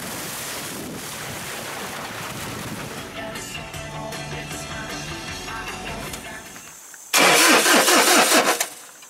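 A car engine cranks and rumbles over a steady noisy background in Indonesia, then catches with a loud, roaring burst near the end before cutting off.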